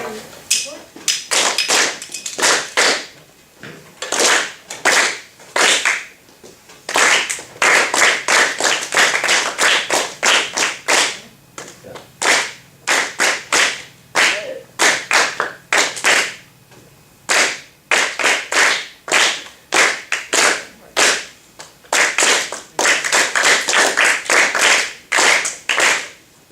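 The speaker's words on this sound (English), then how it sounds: "can we just clap the rhythm from bar in 1 to 11?" A group of band students claps a rhythm together from a method book march, sharp unison claps in bursts of varying patterns with short pauses between phrases, loud and close in a room.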